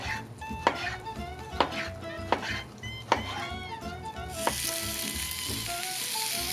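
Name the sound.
pineapple being grilled, sizzling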